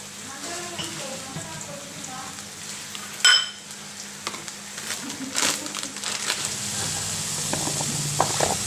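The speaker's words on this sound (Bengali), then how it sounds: "মাছের তেল রান্না করব, তার জন্য আমি পেঁয়াজ আর কাঁচামরিচ দিয়ে দিচ্ছি" Onions and green chillies fry in fish oil in a pan, giving a steady close sizzle with occasional stirring scrapes and a brief louder clatter partway through.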